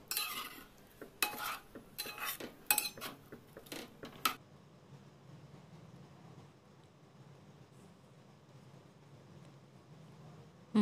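A spoon stirs tamarind juice into fish curry in a pot, with several quick clinks and scrapes against the metal at first, then a low, steady simmering hiss that goes on quietly to the end, close up, with no voices.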